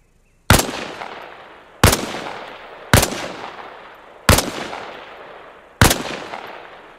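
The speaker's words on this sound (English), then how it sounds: "I want to hear 5 shots" Five loud rifle shots from the Arma Reforger military video game, fired at targets during training, each a sharp close crack with a decaying echo, spaced about one and a half seconds apart.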